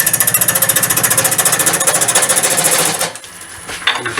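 A wood lathe spins an off-centre goblet out of balance, giving a loud, rapid, pulsing rattle and thump that runs steadily, then slows and drops away as the speed is reduced.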